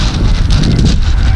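Rain and gusting wind buffet the microphone outdoors on an island by the sea, a dense, loud, rushing wash with no voices.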